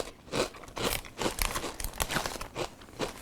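Cape Cod New England Bisque potato chips crunch between the teeth in close, rapid, irregular bursts of crisp chewing, with no talking.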